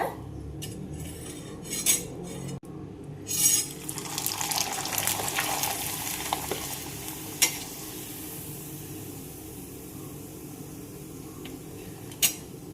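Masala rice papad frying in hot oil makes a soft, steady sizzle, with metal utensil clinks and a few sharp knocks near and far over the long stretch.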